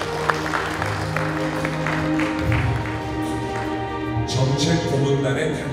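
An audience at a lecture event claps together in steady, dense applause that fills the room, with a faint tonal hum and brief voices underneath.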